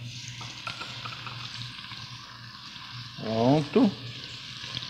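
Onion frying in hot olive oil, a soft steady sizzle under the cooking, with a brief louder stirring clatter and a short spoken word near the end.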